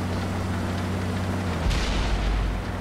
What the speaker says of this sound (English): There goes the artillery.